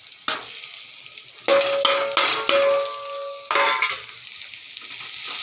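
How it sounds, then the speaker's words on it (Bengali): Chopped garlic and ginger frying with onion for a chickpea-dal and potato curry, a loud close sizzle broken by several scrapes of a spatula stirring the pan, with no one speaking. "রসুন কুচি আদা কুচি দিলাম, একটু নাড়াচাড়া করে নিচ্ছি"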